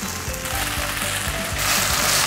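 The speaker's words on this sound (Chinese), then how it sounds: "快速翻炒几秒钟就可以了。" Celery stir-fried with sausage and sauerkraut in a wok, a steady loud sizzle with rhythmic scraping of the spatula as the food is tossed, rising toward the end.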